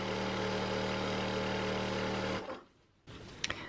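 An industrial sewing machine runs steadily over fabric with a loud, even motor hum, then stops abruptly and leaves a brief quiet gap followed by a few light clicks.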